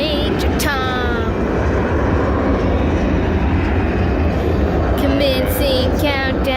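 A loud, steady broadband roar of an airplane landing or departing at a busy airport fills the whole stretch, with some chirping birds heard over it.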